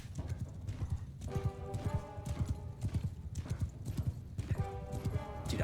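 Rapid clip-clop of a galloping horse in the samurai game Shokuho, rhythmic hoofbeats close and steady, with occasional whinnying tones and a faint voice underneath.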